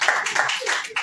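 An audience claps and cheers for a preacher's wife during a church sermon; the dense, loud applause runs steadily for about a second with no pauses.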